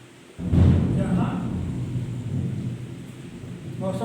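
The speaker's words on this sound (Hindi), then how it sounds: "मौसम खराब है, बारिश अच्छी हो रही है" Heavy rain falls in a thunderstorm, with a deep rumble of thunder rolling in after a quiet start and a steady wash of rain continuing beneath it.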